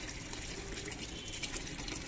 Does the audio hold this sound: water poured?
yes